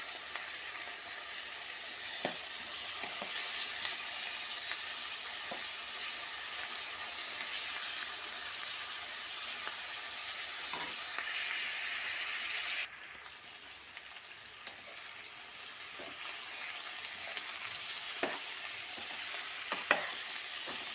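Boiled peas and potato pieces fry in a pan for aloo kurma, giving a steady, moderate sizzle with occasional spoon taps and stirring scrapes. The sound dips briefly partway through, then continues.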